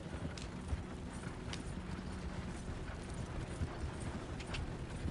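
Horse hooves clip-clop in Red Dead Redemption 2, a steady trotting rhythm of soft thuds under a constant rumbling outdoor bed, moderately close and faint overall, with no voices.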